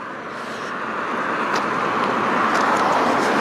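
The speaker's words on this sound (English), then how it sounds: "there's a Go Bus" A GO Transit bus passes on a road, a broad rushing swell that builds gradually and peaks near the end, with traffic noise behind it.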